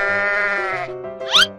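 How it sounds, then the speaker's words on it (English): A single sheep bleats in a long, wavering call that rises into a sharper cry at the end, close and clear with nothing else around it. "Sheep."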